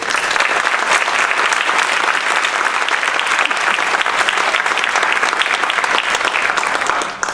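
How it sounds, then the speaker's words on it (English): A band camp presentation audience gives parent volunteers a round of applause: dense, loud, continuous clapping from a large crowd that holds steady for several seconds before tapering off at the end. "I would like to give them a round of applause because they did a lot that we couldn't do"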